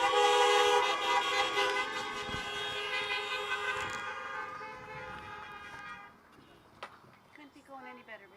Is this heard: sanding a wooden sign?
no